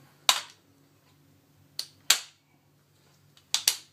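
A Systema PTW Max 2 airsoft gun run on an 11.1 volt battery fires five sharp, close single shots spaced irregularly over a quiet background, the last two in quick succession.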